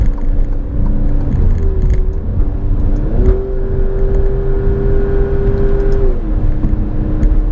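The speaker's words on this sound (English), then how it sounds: "So right there I just shifted down to 5th gear" A 505 hp 2018 Alfa Romeo Stelvio Quadrifoglio engine hums steadily from inside the cabin while driving, its pitch stepping up sharply during a downshift to fifth gear, then holding a higher drone before settling again, with no talk.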